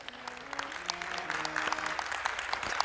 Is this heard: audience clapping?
yes